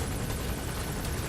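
A helicopter in Metal Gear Solid V: The Phantom Pain, a steady broadband rotor roar with faint pulsing, continuous and fairly loud through the whole short stretch, no talk.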